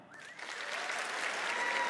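Audience applause in a large theatre hall at a fantasy author's stage event, swelling quickly into dense, steady clapping from a big crowd and holding loud for the rest of the moment.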